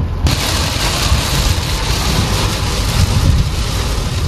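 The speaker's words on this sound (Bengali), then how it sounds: "বৃষ্টি হয়" Heavy rain during a dark afternoon storm, a loud dense continuous roar of falling water that starts abruptly and holds steady, with no voices.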